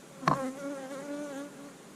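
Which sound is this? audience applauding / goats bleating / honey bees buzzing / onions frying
honey bees buzzing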